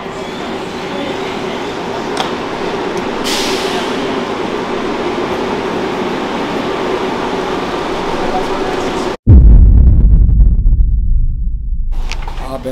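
Steady rumble and rattle of a moving train heard from inside a car, continuous and fairly loud, then an abrupt shift to a heavier low roar near the end, with talking over it.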